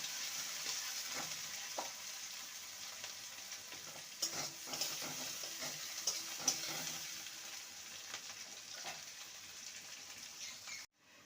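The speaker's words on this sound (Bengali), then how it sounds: "পেঁয়াজটাকে হালকা ভেজে নেবে" Chopped onion fries lightly in a pan for a chichinga (snake gourd) dish, a soft steady sizzle broken by scattered clicks and scrapes of stirring, then a sudden cut-off near the end.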